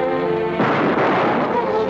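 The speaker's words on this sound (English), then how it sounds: "Fire into that bolt." A gunshot fired into a rusted bolt, heard as one loud, heavy blast that sets off a dense, roaring burst lasting more than a second.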